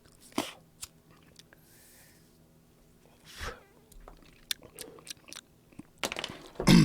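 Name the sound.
chewing on a Cuban cigar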